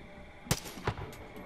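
Two sharp gunshots in the video game Far Cry 5, spaced about a third of a second apart, followed by a fainter echoing crack over quiet background ambience.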